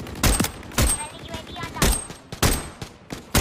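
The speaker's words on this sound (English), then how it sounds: "Someone's already shooting at me." Gunfire in a shooter video game arrives in several sharp bursts of shots, loud and close, spaced unevenly across the moment with brief lulls between volleys.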